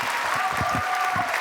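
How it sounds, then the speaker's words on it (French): An audience at a French television variety show applauds a Provençal folk dance troupe. The dense, steady clapping is loud and sustained and fills the whole short moment without any voices. "Applaudissements donc pour cette danse folklorique provençale."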